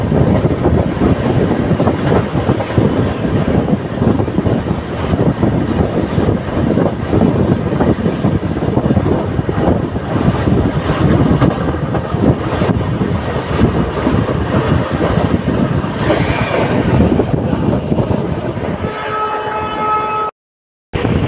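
Onboard the Amarnath Express between Guwahati and Jammu Tawi, the train runs at about 120 km/h with a loud, continuous rumble and wheel clatter, dropping out abruptly just before the end.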